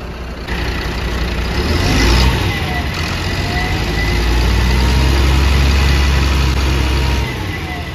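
A Volvo B8R bus engine runs after maintenance and the fitting of new disc tyres, a loud, steady diesel idle that swells into a sustained rev and holds there, close by with no talk.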